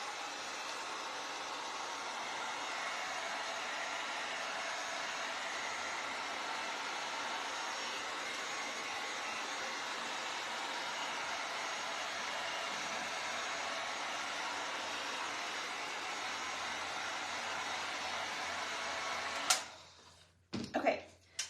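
A hair dryer blows steadily on a handmade DIY pumpkin craft, a constant close whooshing hiss lasting about nineteen seconds before it clicks off and a few handling bumps follow.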